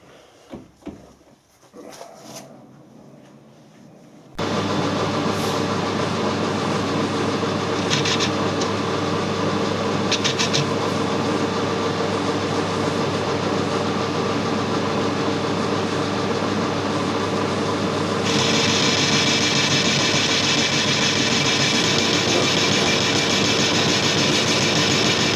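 Machine tool cutting a stainless steel spur gear with an interrupted cut, a steady loud mechanical whir with a rising high-pitched tone partway through, after a few seconds of quieter handling noises at the start.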